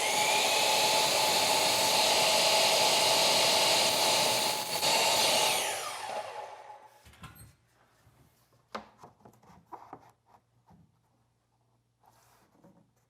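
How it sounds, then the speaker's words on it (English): Miter saw cutting window trim: a loud, steady high whine of the spinning blade for about five seconds, then it winds down and fades, followed by scattered clicks and light handling noises. "So back to the miter saw."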